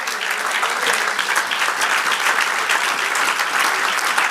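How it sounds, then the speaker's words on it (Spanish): A church congregation claps together in sustained, dense applause, loud and continuous from start to finish with no talking over it. "dale el aplauso al rey."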